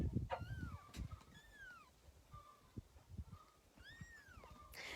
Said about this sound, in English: once they start meowing